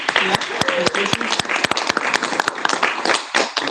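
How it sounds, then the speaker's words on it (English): Audience at a board of delegates meeting gives a round of applause, dense irregular clapping filling the room with a brief voice cutting in near the start. "Let's give her a round of applause"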